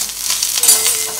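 Hot oil sizzling and spitting in a pan while Banjara-style dried fish chutney fries, a loud, dense hiss held close throughout the brief moment.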